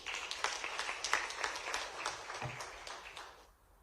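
Audience at an evening investment session with the Madhya Pradesh Chief Minister in Pune breaks into a burst of applause, a dense patter of many hands clapping in a hall that gradually fades out.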